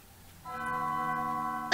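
A bell rings in the video game Undertale in a long corridor, one sustained tone with bright ringing overtones that starts suddenly and holds steady, followed by a short loud burst at the end.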